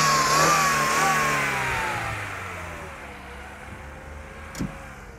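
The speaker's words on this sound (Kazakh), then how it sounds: "Мотору тим эле уулойт." A 1989 1.8-litre BMW 3 Series wagon revs up loudly at a Bishkek used-car market, its engine note rising then slowly falling back toward idle, close and alone, with a brief knock near the end.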